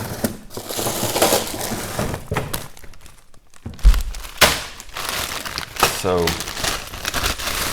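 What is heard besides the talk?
ice being scooped into a glass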